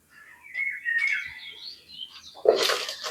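Birds chirping and whistling nearby in a quick series of bright calls, followed by a sharper burst of louder tweets near the end, with no one talking.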